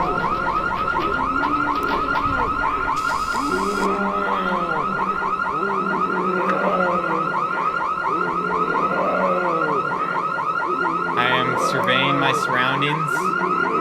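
A car alarm in the horror game Liminal City wails continuously and loudly nearby, its rapid cycling tone persisting throughout while someone speaks briefly over it amid low, eerie ambience.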